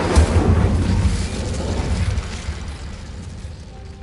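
Confringo and Incendio spell blasts in the Hogwarts Legacy video game land as a loud booming burst that rumbles and slowly fades over several seconds, leaving a low lingering roar.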